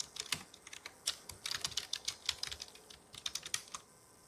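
English words are typed on a computer keyboard for a digital textbook vocabulary test, producing a close, quiet, uneven run of key clicks in quick bursts that stops near the end.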